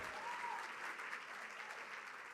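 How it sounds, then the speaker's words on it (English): Steady applause from a crowd at a charity ball, a continuous wash of clapping throughout with no pauses. "Thank you. Big round of applause."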